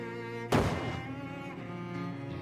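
A weak dynamite explosion against a rock in a video game lands as one dull, muffled thump that rings out briefly and fades into a quiet hum.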